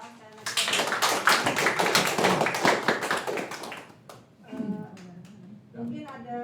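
Audience at a teachers' event breaks into dense, loud applause for several seconds, then the clapping thins out and a voice speaks briefly over the scattered remaining claps.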